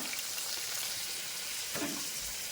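Cut eggplant and potato hit a hot oiled pan with sliced garlic and fry with a steady, close sizzle and crackle, with a brief stirring scrape partway through.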